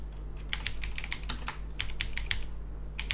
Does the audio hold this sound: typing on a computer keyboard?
yes